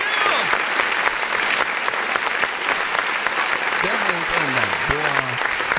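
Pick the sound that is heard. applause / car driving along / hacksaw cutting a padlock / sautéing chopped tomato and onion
applause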